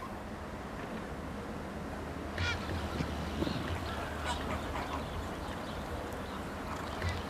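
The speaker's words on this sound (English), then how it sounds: "In India, flamingos swarmed at the feet of the buildings where the inhabitants were locked down" A flock of flamingos calls at the foot of buildings in India during lockdown, giving scattered honking cries over a steady wash of background noise, moderately distant, with no voices.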